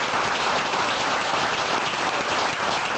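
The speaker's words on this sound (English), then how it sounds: "And by show of applause." An audience at a 2006 community forum in a Twin Cities venue applauds, a dense, even wash of clapping that stays loud and steady for the whole few seconds with no voices on top.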